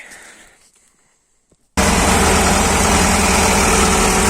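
After a brief quiet stretch with faint background noise, a T-40AM tractor engine idles loudly and close, a steady, deep, rumbling drone that continues unbroken to the end.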